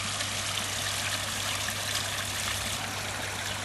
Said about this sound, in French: Depuis que la cascade est en route,